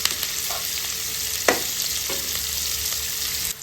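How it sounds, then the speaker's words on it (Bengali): Potatoes, onions and green chillies sizzle steadily in an oiled pan, a continuous close frying hiss broken by a few clacks of a spatula stirring the pieces. "এবারে না এই আলু পেঁয়াজ আর কাঁচা লঙ্কাগুলো একটু ভাজা ভাজা করে নিই"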